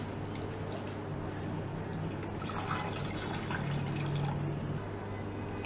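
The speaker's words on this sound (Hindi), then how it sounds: "इसमें हम 2 कप पानी डालेंगे।" Water is poured into two cups of semolina in a home kitchen while making makhandi halwa, a soft, steady trickle of liquid over a constant background hum, fairly quiet throughout.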